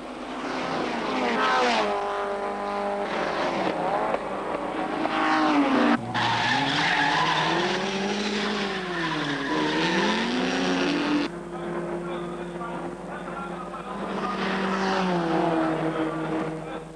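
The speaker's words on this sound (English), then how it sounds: "With Moffat treating the race as a five-lap sprint, the field begins to string out." Race cars at the 1965 Sandown six hour race roar past, their engines loud and continuous, with pitch rising and falling as cars sweep by in close succession.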